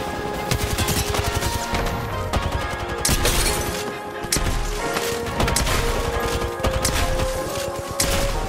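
Peacekeeper shotgun blasts and other gunfire from the video game Apex Legends, loud and dense, with rapid bursts and booming shots packed together over several seconds.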